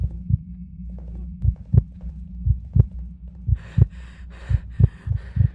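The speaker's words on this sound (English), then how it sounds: "This heartbeat is going insane." Video game heartbeat effect, a deep thudding pulse repeating steadily about twice a second, loud and close, with a hiss of static swelling in over the second half.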